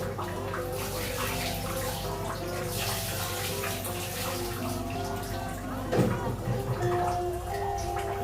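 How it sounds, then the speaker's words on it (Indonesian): Tap water running steadily as hands are washed in a kitchen while rice is being cooked, a soft continuous splashing hiss with a brief louder splash near the end, no talk. "saya cuci tangan"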